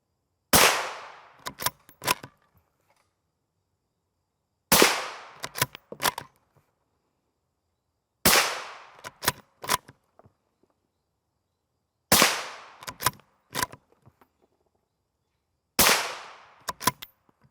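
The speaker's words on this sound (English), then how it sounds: "So we'll shoot 5 rounds of it from a couple guns." Suppressed 5.56x45mm rifle fire using 62gr FMJ M855 ammunition, five evenly spaced sharp shots, each a loud crack followed by a brief rattling echo and quick tail, with silence between them.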